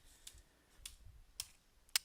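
Typing on a computer keyboard, four sparse, quiet key clicks spaced irregularly in a near-silent room.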